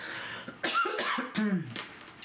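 A woman coughs repeatedly at close range during a scrapbooking tutorial, with a few short harsh bursts spaced out, plus some throat clearing.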